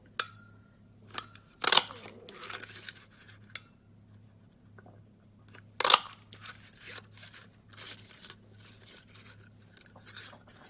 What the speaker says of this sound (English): I'm just going to bring in that leaf punch and punch those 3 out